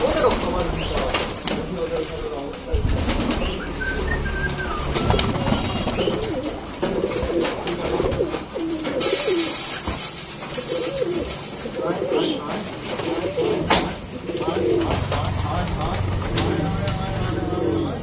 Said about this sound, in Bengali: আমাদের ওই ঘরের ভেতরে যে পায়রাগুলো রয়েছে ওদেরও খাবার দিতে হবে